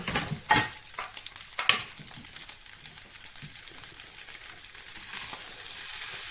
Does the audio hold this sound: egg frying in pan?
yes